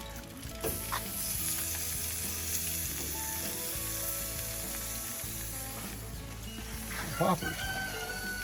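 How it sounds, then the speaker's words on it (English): Four half chickens sizzle and crackle on a GrOven grill in a steady, close frying hiss, while someone talks over the cooking throughout. "But listen to those babies sizzle."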